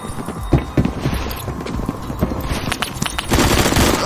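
Pistol gunfire in the video game Phantom Forces, a quick run of loud, close sharp shots with clattering impacts, thickening into denser noise toward the end.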